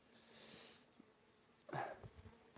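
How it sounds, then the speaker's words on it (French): Honeybees in the hive fan their wings, a faint, low buzzing hum with intermittent louder swells and small knocks, distant and quiet. "tu devrais voir les abeilles avec le cul en l'air qui battent des ailes"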